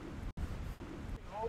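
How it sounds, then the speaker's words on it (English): Wind gusts by a high river, a steady rushing buffet on the microphone with one brief dropout, with faint water noise underneath. "It's too windy!"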